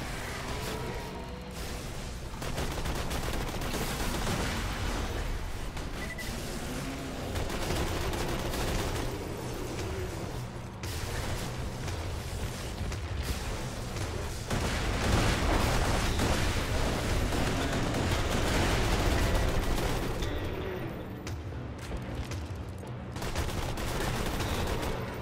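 Sustained video-game gunfire from NPC enemies in Borderlands 2, with dense rapid bursts, machine-gun rattles and booming impacts layered continuously for about 25 seconds, loud and chaotic with no speech.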